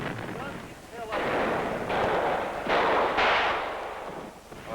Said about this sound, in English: They fired, we returned fire, dropped in a couple M79s and advanced down the trail by fire.